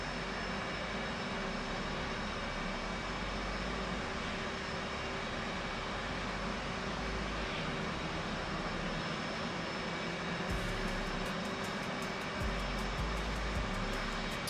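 Steady drone of an airplane engine in the DCS flight simulator game, a continuous broadband roar with a faint rapid ticking entering near the end, no talk.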